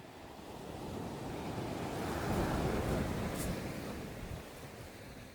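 Ocean surf rolls onto a beach at Pohang during shore fishing, a steady broad wash that swells and fades, with wind noise on the microphone.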